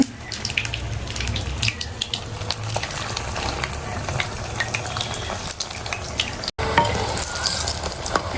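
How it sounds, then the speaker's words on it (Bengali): Onion frying in a small amount of oil in a home kitchen, a busy close crackle and hiss with scattered spatter pops, briefly cut by a short dropout before the sizzling resumes. "আমি অল্প অল্প করে ভাজি, কারণ বেশি ভাজতে গেলে আমার আবার হয় না"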